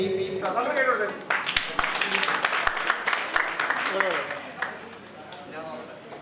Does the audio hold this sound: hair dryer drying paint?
no